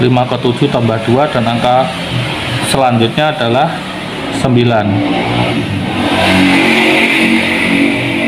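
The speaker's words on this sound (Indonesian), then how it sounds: "suaranya banyak motor lewat" Motorbikes pass by on a busy main road, their engines rising and revving in the background under someone talking, with the traffic growing louder once his voice stops.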